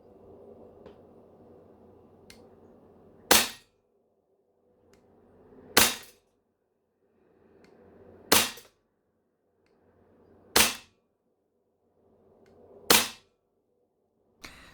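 Five airsoft gun shots fired with red gas ring out in a steady series, each a sharp, loud crack a couple of seconds apart, with faint handling rustle between them and no voices.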